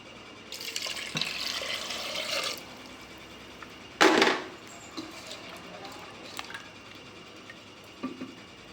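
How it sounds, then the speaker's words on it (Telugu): Two glasses of water pour into a pot of dal with tomato, onion and green chili, heard as two close splashing gushes, the second short and loud, followed by faint drips and clinks. "అదే గ్లాస్తో వాటర్, 2 గ్లాసులు వాటర్ వేయాలి."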